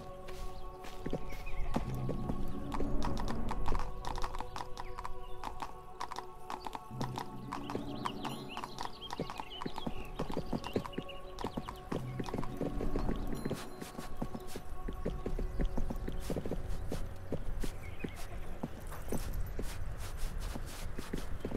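Horse hooves clip-clop steadily on a march westward in the medieval video game 1428: Shadows over Silesia, a continuous rhythmic walking patter with occasional snorts and ambient outdoor noise.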